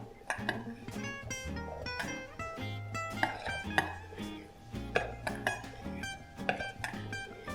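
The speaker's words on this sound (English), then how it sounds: "So just mix it so it gets coated with the mixture." Chickpeas get stirred in a bowl to coat them in a seasoning mixture, with repeated clinks and scrapes of a utensil against the dish in an uneven rhythm, fairly quiet and close.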